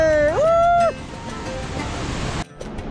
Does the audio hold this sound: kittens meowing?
no